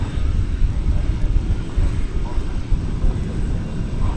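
An airliner landing at DFW Airport, a broad, steady low engine roar that holds fairly loud throughout, with faint radio voices beneath it.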